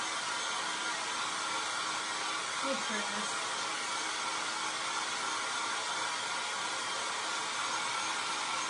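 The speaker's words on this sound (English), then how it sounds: "Hopefully you don't hear this, if you hear this blower. Can you hear the air dryer?" A hair dryer blows with a steady, loud rushing whir throughout, and a voice briefly speaks under the noise.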